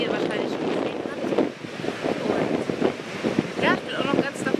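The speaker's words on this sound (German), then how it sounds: "Wir sind jetzt am Strand" Strong wind buffets the microphone on a beach by the sea on Norderney, a steady roar with rushing surf beneath and a voice speaking intermittently over it.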